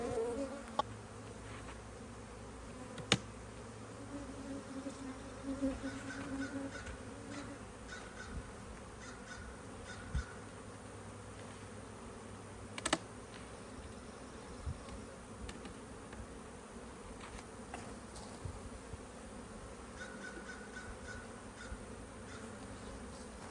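Many honey bees hum in a continuous low buzz close by around an open hive, with a few louder passes, occasional knocks and faint distant crow calls.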